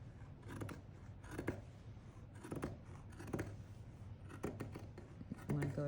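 Scissors slicing through fabric for a heart-shaped donut pillow, several crisp close snips in short clusters, with quiet pauses between cuts.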